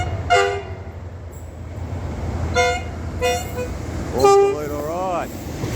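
Doodlebug rail motor crossing a trestle bridge in Karingal, Australia, sounding several short horn toots over a steady rumble, with a longer wavering blast near the end, at moderate distance outdoors.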